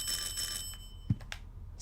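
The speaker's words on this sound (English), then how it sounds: "Someone's ringing my doorbell." A doorbell rings in the video game Silent Hill 4: The Room, a bright, tinny electronic ring lasting under a second, followed by a soft thump and faint rustles.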